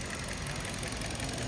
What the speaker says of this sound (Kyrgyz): Мотор жагы бирок четкий иштеп турат.